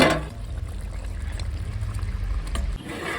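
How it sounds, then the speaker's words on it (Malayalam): A pot of homemade country chicken curry bubbles on the stove, a continuous low, churning burble with a brief sharper clatter at the start, steady and close until it trails off near the end. "നല്ല അടിപൊളിയായി തിളച്ചുകൊണ്ടിരിക്കുന്നുണ്ട് നമ്മുടെ നാടൻ ചിക്കൻ"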